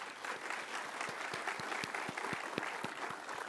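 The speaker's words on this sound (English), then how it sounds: "let's take a second and just give a round of applause to all of our sponsors" An audience at the opening of the BSidesSF 2023 security conference applauds its sponsors: steady, fairly faint crowd clapping with sharp individual claps standing out throughout.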